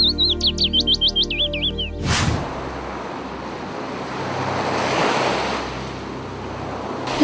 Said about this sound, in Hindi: किसी नई जगह पे कोई एग्जॉटिक बर्ड्स की आवाज सुनाई दे